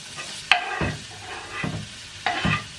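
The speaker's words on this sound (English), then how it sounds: "I already heated up some oil in my pan, and I'm gonna add the onion and garlic now" Chopped onion and garlic going into hot oil in a pan, bursts of sizzling and scraping stirs that rise and settle three times, close and fairly loud, with no voices.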